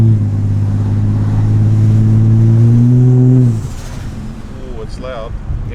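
A loud, steady supercharger whine from a car running in first gear holds strongly for about three and a half seconds, then cuts off and leaves rougher engine noise.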